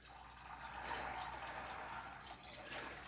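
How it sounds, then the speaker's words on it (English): Water pours from a tap into a pot of drained peas being covered for grey peas and bacon, a soft, steady splashing rush, quiet and continuous. "Now we've got to put enough water in to cover the peas"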